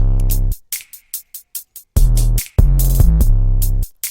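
Distorted 808 bass in a trap drum loop made in FL Studio, heavy buzzing low notes punching in alongside crisp hi-hat ticks, loud and rhythmic with no voices.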